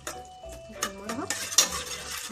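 A large spoonful of garlic frying in one pot for koshari, with a steady low sizzle under repeated scraping and clinking of a spoon against the pot, close and moderately loud.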